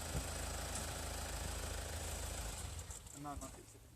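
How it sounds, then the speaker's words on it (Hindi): A vehicle engine idles steadily in an outdoor agricultural setting, a continuous low rumble that fades slightly near the end, with faint voices in the background. "इसका इंजन ऑफ कर दो"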